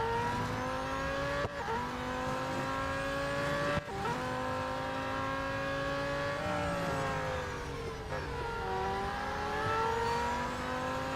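Race car engine in the mobile racing game Real Racing 3, a loud steady high-pitched drone with shifting revs, two sharp downshift blips while braking, then climbing again, heard alone with no talk.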